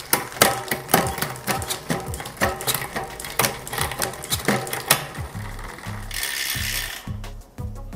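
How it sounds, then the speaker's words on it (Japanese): A Shimano Di2 electronic rear derailleur on a bicycle drives the chain down to the smallest sprocket, heard as a busy, close whirring and clicking run of mechanical ticks that ends in a steady hum, with no voices. "続いてチェーンを後ろのスプロケット、一番小さいスプロケットに変速します"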